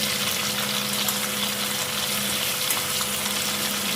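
Very large prawns fry in oil in a pan for prawn malai curry, a steady close hissing sizzle that holds evenly throughout without pauses.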